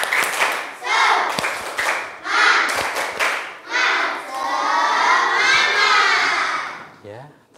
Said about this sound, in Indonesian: Coba ulangi lagi. Tepuk semangat.